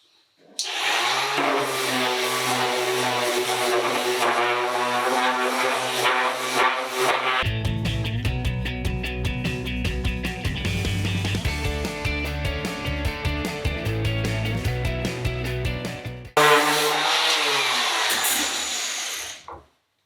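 A wooden key rack sanded with 60 grit sandpaper by a power tool, a loud continuous whirring drone that shifts pitch and load midway, then cuts off abruptly at the end.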